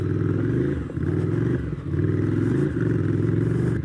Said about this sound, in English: Oh, I adore this motorcycle.